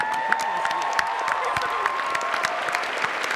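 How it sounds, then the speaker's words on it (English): A Comic Con panel audience for Agents of SHIELD breaks into sustained applause with some cheering and whistles, a dense wash of clapping that fills the hall steadily without pause. "A big round of applause for Brett Dalton."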